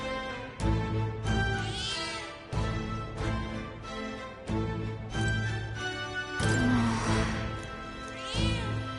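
A cat in the video game Metaphor meows repeatedly in drawn-out, rising and falling calls, close and clear, over a faint steady game music bed.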